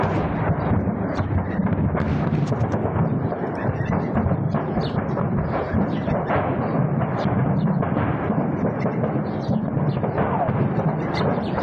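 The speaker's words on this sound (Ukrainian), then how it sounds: "Вибухали як артилерійські снаряди, так і ракети." Ammunition depot detonating near a town, with artillery shells and rockets exploding: a dense, continuous roar of overlapping blasts and rumbling booms that fills the whole stretch at steady loudness.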